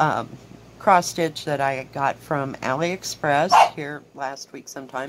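Dog barking repeatedly indoors, a string of close yips and barks mixed with someone talking.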